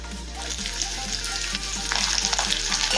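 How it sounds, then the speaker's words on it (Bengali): Crushed garlic and a medium onion fry briskly in a pan over a medium-to-high gas flame for lentil dal tempering, a steady loud close sizzle with a low hum beneath and no voices. "গ্যাসের ফ্লেম মিডিয়াম টু হাই রেখে পেঁয়াজটা একটু ভেজে নেব।"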